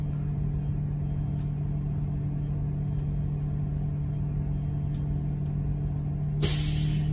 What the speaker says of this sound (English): My bus takes forever to build up air.